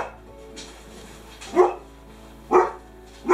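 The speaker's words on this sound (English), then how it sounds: "Dog's barking." A dog barks three times, loud and fairly close, with evenly spaced single barks over a steady low background hum.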